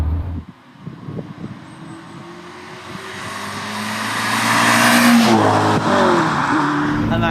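A 1996 TVR Cerbera V8 sports car engine revs hard, building from a low rumble into a loud rising roar over several seconds, then holding high before easing slightly, heard close from the car.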